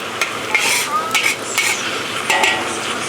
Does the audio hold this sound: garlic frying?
yes